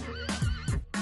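A horse neighing loudly and close, a shrill, wavering whinny broken into repeated pulses with deep snorting breaths between them.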